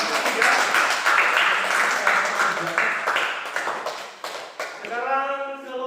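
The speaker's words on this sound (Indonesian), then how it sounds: "Oke, tepuk tangan untuk kelompok ketiga." A classroom of students gives a round of applause, with scattered, uneven claps over several seconds before a voice begins speaking at the end.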